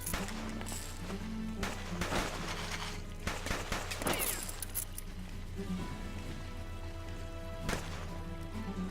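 Gunfire in the video game Wild Frontera, a handful of sharp separate shots with metallic clinks scattered over a steady game music backdrop, fairly loud with no talk.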